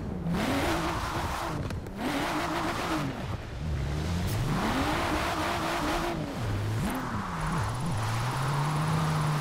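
A tuned BMW M4 drifts in Forza Horizon 4, its engine revving up and down in repeated sweeping surges with shifts and tire noise, loud and continuous throughout.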